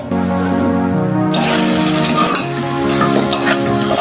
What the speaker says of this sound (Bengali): এখন মশলার মধ্যে কষে নিচ্ছি